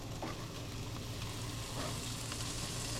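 Baby back ribs and tips sizzle on a grill with a constant, quiet crackling hiss and a few faint clicks and pops, without any talking.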